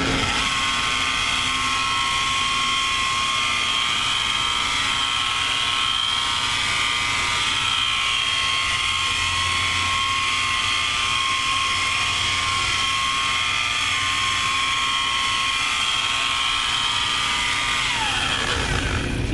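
An electric polisher buffing clear coat on a 1968 Pontiac Firebird whines steadily at low speed, a close continuous high-pitched hum that holds for nearly twenty seconds before winding down at the end.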